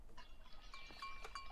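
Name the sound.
goat bleating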